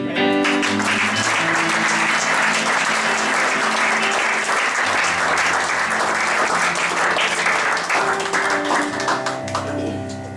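A church congregation applauding loudly and continuously in acclaim of Jesus, dense sustained clapping with music playing underneath that tapers slightly at the end.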